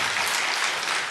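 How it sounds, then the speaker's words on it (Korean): Church congregation applauding to welcome newcomers during a service, a dense, even burst of many hands clapping, fairly loud and close, lasting only about a second. "박수로 환영하겠습니다."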